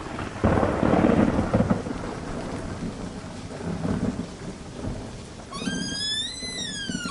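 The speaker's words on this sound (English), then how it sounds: "I almost didn't hear you over the storm." Heavy rain pours steadily while deep thunder rumbles and rolls, followed by a faint rising whistling tone near the end.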